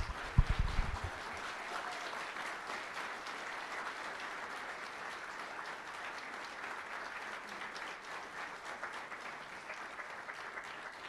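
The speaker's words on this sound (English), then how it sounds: "I would like to for them to come up here and get a gigantic round of applause." Applause from an audience at a university humanities and global studies awards ceremony, starting with a few sharp claps and settling into steady, fairly distant clapping that continues throughout.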